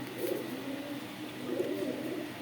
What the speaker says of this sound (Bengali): এটা একটা কালদম কবুতর।